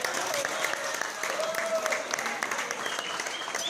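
Steady applause from a room full of wedding guests, dense clapping that holds at an even level throughout, with a faint murmur of voices underneath.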